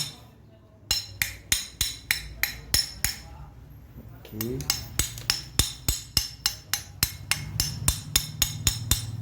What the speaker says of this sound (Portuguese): Aqui está na solda, batendo esse cascalhozinho